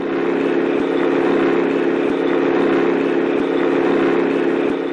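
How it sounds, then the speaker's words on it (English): A steady engine drones at a constant pace, loud and close, with no talking. "Noise of the engine of a vehicle is the example of sound of low pitch."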